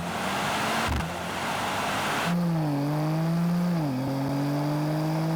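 Mercedes-AMG C63, BMW M3 Touring and Audi RS4 Competition launching in a drag race, a loud sustained engine drone rising through gears with shift dips, heard steadily from inside the car.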